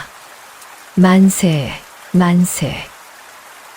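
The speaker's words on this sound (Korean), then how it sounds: "하늘에서 빗방울이 떨어지기 시작했습니다" Steady rain patters throughout a Joseon-era village scene while a crowd twice shouts a loud cheer over it.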